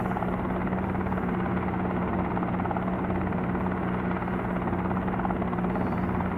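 In the Helicopter Simulator video game, a helicopter engine roars continuously with a constant low rotor hum and dense broadband noise, loud and unbroken from start to end, with no talking.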